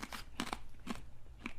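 Homemade crystal malt grains being chewed up close, giving four or five sharp, crisp crunches in an uneven rhythm with no talk.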